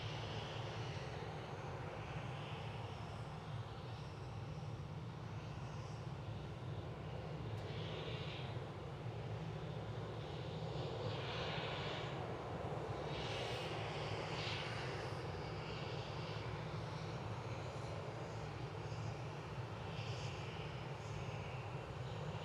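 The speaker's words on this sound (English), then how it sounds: "Next in is the Aer Lingus XLR." An Aer Lingus A321XLR airliner arrives at Manchester Airport, its engines a steady, loud, broad roar that holds for the whole stretch with no voices.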